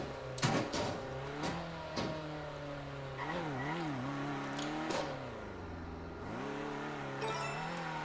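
A race car in the Circuit Superstars game revs and shifts through its engine range, with pitch rising and dipping, brief tire squeals and a sharp crash-like burst early on, loud and close.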